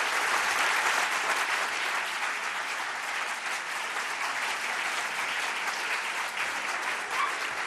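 An audience at a Free Library author event applauds to welcome Malcolm Gladwell, a dense, steady wash of clapping from a large crowd that holds loud throughout.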